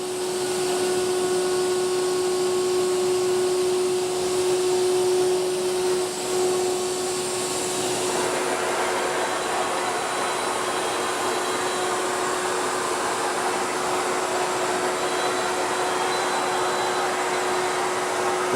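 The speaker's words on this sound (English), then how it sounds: "So it's a 1/4 inch router that's routing that in there." A 1/4 inch CNC router cuts a groove for the back panel of a cabinet, giving a loud, continuous high whine with a steady tonal hum and dense broadband noise that shifts slightly partway through.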